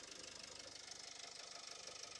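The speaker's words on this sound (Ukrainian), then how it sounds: "Мотор працює чітко, рівненько" Renault Koleos with a 2.0 diesel engine and chain-driven timing, automatic 4x4, idling steadily; a quiet, even, rhythmic diesel clatter with regular pulses and no other sounds.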